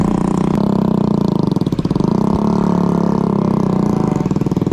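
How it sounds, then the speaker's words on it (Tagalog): A motorcycle engine with no muffler runs loud and close, a steady rough idle with a dense rapid pulse that holds for several seconds without pause. "Ito napakaingay ito kasi walang tambutso."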